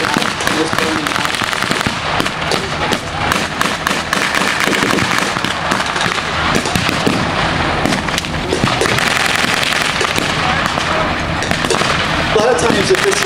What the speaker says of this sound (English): You can see that there's artillery coming in from the tanks that are working out